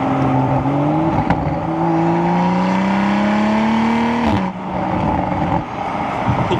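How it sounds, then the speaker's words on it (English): A modified Toyota Supra in sport mode revs its exhaust loudly and close, its droning pitch climbing steadily before dropping sharply, then rumbling on at a lower idle. "I'll let you guys hear the exhaust as well."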